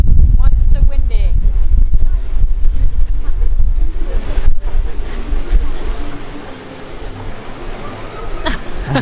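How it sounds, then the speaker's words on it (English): Strong wind buffets the microphone outdoors in a loud, continuous rumbling roar that gusts and eases slightly toward the end. "Why is it so windy?"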